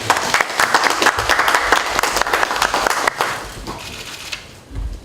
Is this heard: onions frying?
no